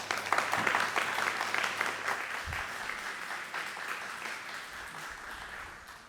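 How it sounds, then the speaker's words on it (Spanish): An audience claps warmly and continuously, the applause fairly distant and gradually tapering off. "brindémosle un caluroso aplauso a Nicolás"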